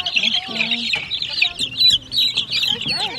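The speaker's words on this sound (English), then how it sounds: "This is a nursery for these little chicks." Little chicks in a nursery pen peep and cheep constantly, a dense, close chorus of high chirps with no pauses.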